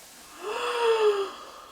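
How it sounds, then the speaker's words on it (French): A big drawn-out yawn during gentle yoga stretching rises in pitch, holds, then tapers off in a breathy close voiced sigh, heard alone in a quiet room. "je les laisse partir avec des grands bâillements"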